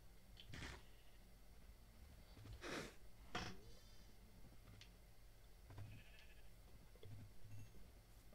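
Sheep in the Minecraft video game bleat in a few short, faint calls spread across a quiet background.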